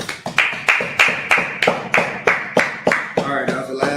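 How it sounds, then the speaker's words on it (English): Sharp, evenly spaced hand claps, about a dozen in a steady rhythm at a Sabbath service, close and loud with no talking. "Clap it up."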